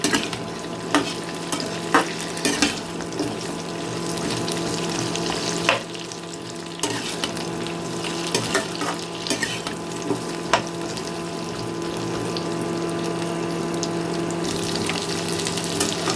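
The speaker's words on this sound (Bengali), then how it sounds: "ভেন্ডিগুলোকে এখন আমি এই পেঁয়াজের সাথে বেশ ভালো করে ভেজে নেব" Okra (bhindi) frying with onions in a pan over medium-low flame: a constant crackling sizzle with a steady hum underneath, broken by occasional sharp stirring knocks against the pan, and no voices.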